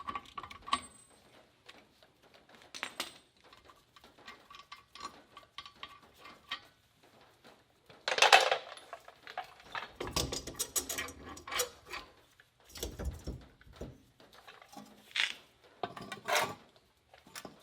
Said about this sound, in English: Just use a pry bar to hold the studs. We can pop this off.